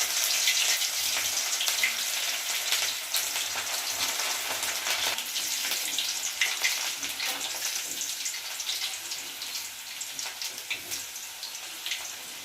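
Banana flower pakodi frying in hot oil over a low flame, a steady crackling sizzle with dense bubbling that holds evenly throughout, close and continuous with no voices.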